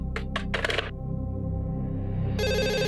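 Telephone ringing as a call is placed: short electronic ring bursts, then a sustained tone that gives way to a brighter, louder ringtone pattern at the end, all over a low humming background.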